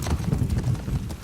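Horse hooves galloping in The Last of Us Part II, a quick steady clip-clop rhythm, close and continuous over a short stretch.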